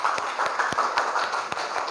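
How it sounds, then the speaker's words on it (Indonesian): A fifth-grade class at an elementary school applauds a student group, a dense run of many hands clapping fairly close, steady and lively for the whole stretch. "Berikan tepuk tangan untuk kelompok Hasanuddin."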